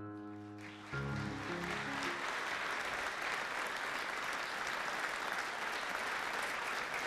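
An audience at an award ceremony bursts into dense, sustained applause that starts abruptly after a brief held tone and continues loudly and evenly to the end.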